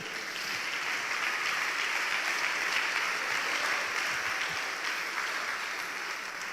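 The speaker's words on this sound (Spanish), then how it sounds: "Dale otro aplauso al Señor Jesús." Sustained applause rises from a church congregation praising the Lord Jesus during an evangelical service, a thick, even roar of many hands clapping at full strength from start to finish, without speech.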